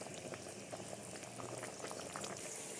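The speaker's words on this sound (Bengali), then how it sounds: "সামান্য একটু ফুটে গেলে নামিয়ে নেব।" A vegetable and lentil curry with green banana, potato and eggplant boils in a pot, giving a steady, soft bubbling and popping simmer that stays even and fairly quiet throughout.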